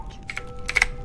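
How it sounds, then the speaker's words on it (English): Clicking keys of a mechanical computer keyboard tap out two short bursts of several quick clacks, close and crisp against a quiet background. "Now, I know you may have noticed that clicking in the back, that is my keyboard"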